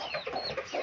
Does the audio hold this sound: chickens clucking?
yes